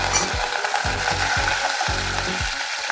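Curry leaves sizzle loudly in hot oil while tempering for wheat semolina pongal, a dense, continuous close frying crackle with faint rhythmic stirring underneath.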